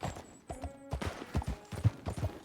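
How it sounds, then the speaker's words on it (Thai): Horse hooves clip-clop at a steady riding rhythm while a rider travels uphill in Red Dead Redemption 2, several clear, close hoof strikes over faint game ambience. "เราต้อง ขี่ม้าขึ้นไปนะ ข้างบนนี่ครับ"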